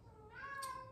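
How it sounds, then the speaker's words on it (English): A cat gives a single short, plaintive meow indoors, faint and alone, rising and then falling in pitch. "that's my cat crying."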